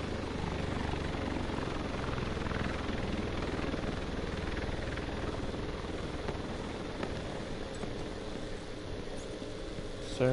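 Steady low rumble of an aircraft engine with a whirring, rotor-like drone passing overhead in The Division 2, continuous and fairly faint with no talk.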